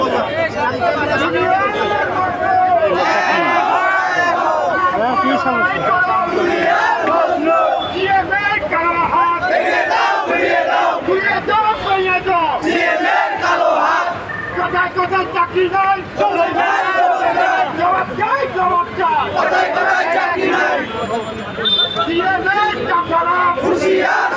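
Crowd of garment workers at a protest human chain over dismissals and false lawsuits, a dense mass of raised voices and babble that stays loud and continuous, with chanting blended into the din.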